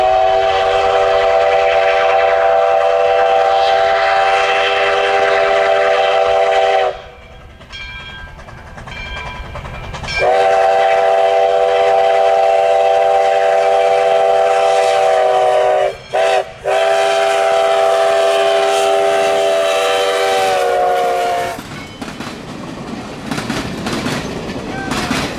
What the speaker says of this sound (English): As with any train chase, intensity builds relative to the train's speed.